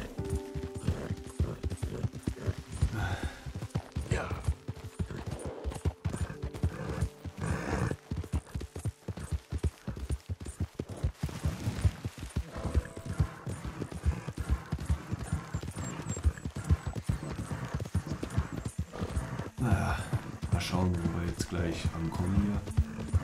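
A horse gallops in Red Dead Redemption II with a rapid, continuous drumming of hooves across a bridge, accompanied by game ambience and mechanical sounds, while someone talks over it.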